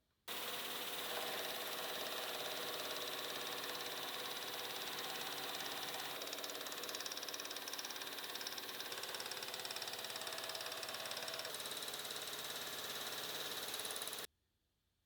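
Boring head on a milling machine cutting a series of scallop-like grooves at a half-inch radius, a steady loud metallic whir and chatter running unbroken for about fourteen seconds before stopping abruptly.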